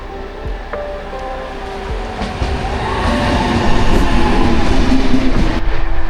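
A train rumbles at a quiet, nearly empty railway station in Hungary, a low steady roar swelling louder as it draws close, with faint squeals and rattling wheels; no one talks.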